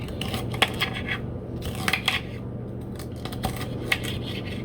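A kitchen knife chops garlic on a cutting board while a spaghetti dinner is being made, giving sharp, irregular taps in small clusters over a constant low background hum.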